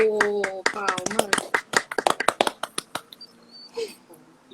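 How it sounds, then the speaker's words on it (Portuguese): A handful of people clap in quick, sharp individual claps at a book pre-launch gathering, close and distinct, mixed with voices talking and laughing over them before the clapping fades into quieter chatter. "Palmas."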